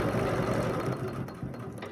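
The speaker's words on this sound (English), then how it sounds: "Now I'm going to stitch up my arc a little bit, just by free motion, and just go nice and slow." A sewing machine doing slow free-motion stitching along an arc, a continuous close mechanical whir that holds steady throughout.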